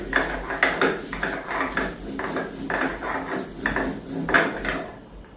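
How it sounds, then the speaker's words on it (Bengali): Spices ground on a traditional stone grinding slab (pata): close, rhythmic rasping strokes of stone on stone, repeating back and forth at a steady pace with no talking. "তো পাটার মধ্যে নিচ্ছি মশলা করতে"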